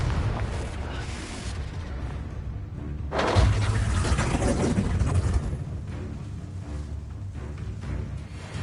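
A Confringo blasting spell bursts in Hogwarts Legacy, a heavy boom swelling over a constant dense rumble of game action, loud and sustained for a few seconds before settling back into the background roar.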